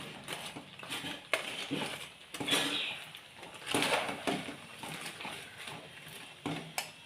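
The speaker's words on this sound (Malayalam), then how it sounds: "അതിനുവേണ്ടി നന്നായിട്ട് ഇങ്ങനെ ഇളക്കിക്കൊണ്ടേയിരിക്കണം അടി പിടിക്കാണ്ട് ഇങ്ങനെ ഇളക്കിക്കൊണ്ടേയിരിക്കണം" Jackfruit pieces with jaggery syrup stirred in a pan: repeated scraping and knocking of a spoon against the pan in an uneven rhythm, fairly close, with no voice heard.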